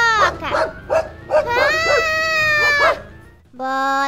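A cartoon dog barks in a series of short, bright yelps and whimpers, followed by a longer drawn-out howl and a final yip, up close and loud, with a brief exclaimed voice.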